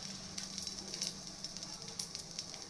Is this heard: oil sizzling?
yes